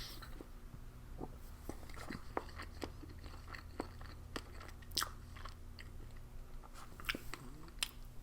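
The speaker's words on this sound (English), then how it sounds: "Take a while to chew through, sorry." Someone chews Polish S-R-9 military ration pasta bolognese, giving close, irregular crunchy bites and mouth clicks spread over several seconds, fairly quiet with no talking.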